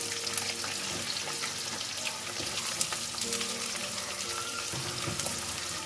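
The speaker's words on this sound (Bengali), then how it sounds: "এবার আমি এর মধ্যে দিয়ে দেবো পেঁয়াজ কুচো" Three medium chopped onions frying in a pan for a Bengali chicken and potato curry, giving a steady dense sizzle and crackle that runs unbroken throughout at moderate level, with occasional faint clinks.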